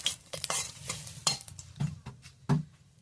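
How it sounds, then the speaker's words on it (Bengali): Whole tempering spices, dried red chilli, five-spice and a little nigella seed, frying in hot oil while a utensil stirs them, with short scraping clinks against the pan over a soft sizzle, close and fairly quiet. "ফোড়নটাকে একটু নেড়ে নেব।"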